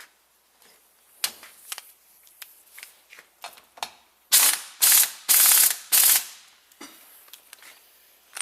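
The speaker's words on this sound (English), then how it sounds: "Now I'm going to tighten the top nut here" A ratchet tightens the top nut on a Toyota front shock absorber, first in scattered single clicks, then in several loud, close bursts of rapid ratcheting.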